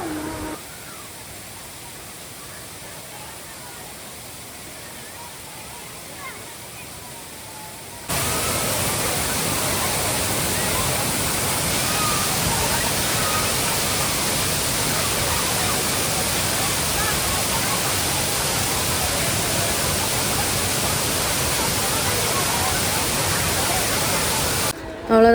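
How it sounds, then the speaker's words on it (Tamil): Thiruparappu waterfall in heavy rain, a steady broadband roar of rushing water that jumps louder partway through and stays constant to the end. "திருப்பரப்பு ஃபால்ஸில் பார்த்தீங்கன்னா தண்ணியோட வேகம் ரொம்பவே ஜாஸ்தியாக இருந்ததுங்க"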